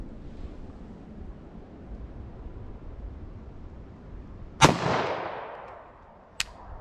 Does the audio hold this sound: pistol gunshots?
yes